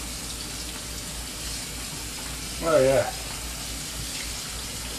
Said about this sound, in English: a little old rinse of cold water there.